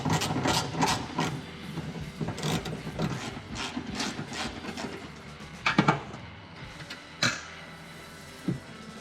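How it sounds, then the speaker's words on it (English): A 10mm socket on a ratchet undoes bolts inside a 2022-2024 Ford Maverick XL, producing close, rapid clicking runs that slow into a few separate clicks and knocks near the end. "we're going to take our 10mm socket and ratchet. We're going to undo these 4 bolts."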